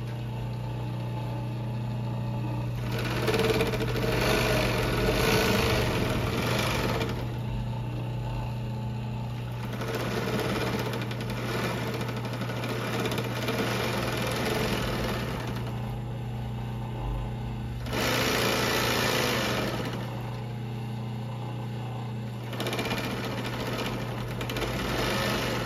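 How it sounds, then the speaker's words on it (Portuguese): An overlock serger runs slowly along the edge of a patchwork quilt, its steady motor hum and rapid stitching swelling in several long bursts over a constant background drone, with no one speaking. "Agora eu vou passar no overlock aqui também."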